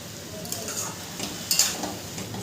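Salt being stirred into a banana flower curry (mochar ghonto) in a pan: soft scraping and stirring with a faint sizzle, plus a couple of sharper utensil scrapes against the pan.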